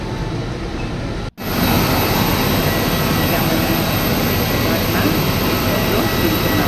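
IndiGo airliner jet engines at Bangalore airport, a loud, steady broadband roar that cuts out for a moment near the start, then holds evenly without talk.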